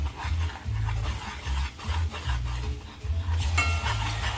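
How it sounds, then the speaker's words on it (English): A spoon scrapes and stirs curry powder into a butter and garlic mix in a pan, with rhythmic scraping strokes and a soft sizzle underneath, close and steady with no voices. "you stir that so that it's evenly distributed into the butter"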